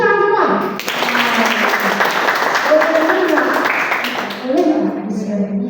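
New tourism-academy students clap together at a first lecture, a burst of applause over music and voices. The clapping holds through the middle and tapers as talk resumes.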